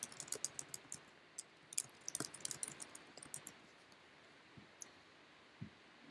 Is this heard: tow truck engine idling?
no